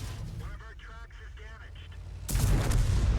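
Close-range tank cannon blast in World of Tanks, a single loud boom that cuts in sharply after a stretch of talking and then rumbles on to the end.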